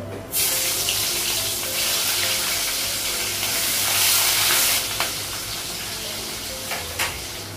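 Onions and five-spice frying in a pan in a home kitchen, a steady loud sizzle that rises and falls across the whole stretch, with a few brief clatters and running-water-like hiss mixed in; no one speaks.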